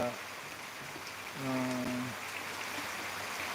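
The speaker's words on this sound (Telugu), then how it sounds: "తుంపేళ్ళ వర్షం అయితే పడుతుంది" Steady soft hiss of light drizzle falling outdoors in Velichala, with a brief low hum or voice-like tone rising midway before the drizzle continues alone.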